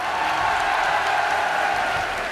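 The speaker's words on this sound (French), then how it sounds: "chers amis, on applaudit très fort Jessica." Crowd applause at a gaming convention show in Toulouse, a thick, steady wash of clapping and cheering that holds at full strength from start to finish.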